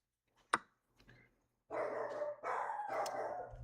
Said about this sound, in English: we got the dogs right in front and backyard going all out